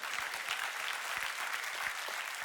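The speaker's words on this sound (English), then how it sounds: "Come on, clap your hands and say a good amen." Church congregation applauding during a sermon, steady dense clapping from many hands spread across the room, moderately distant and even throughout.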